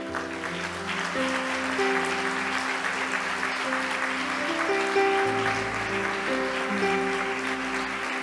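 A church congregation applauds together, a steady, dense clapping that fills the room without pause, with organ or keyboard chords sustained underneath throughout.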